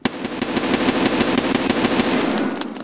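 Rapid automatic gunfire from the video game Escape from Tarkov, a loud, sustained burst of closely spaced shots lasting nearly three seconds before tapering off.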